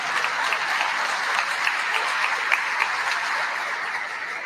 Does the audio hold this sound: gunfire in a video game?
no